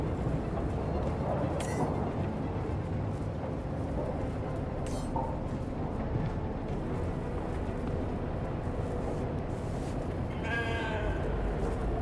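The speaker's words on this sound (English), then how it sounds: "Never thought I'd be so glad to see a sheep." A sheep bleats in The Alters video game, a few short wavering bleats, fairly faint, rising over a loud, steady mechanical hum and game ambience.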